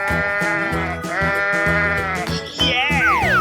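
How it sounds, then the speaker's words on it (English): In a 3D animal slide video game, a goat bleats loudly in several quavering, repeated cries, with a brighter falling cartoonish call at the end. "Goat."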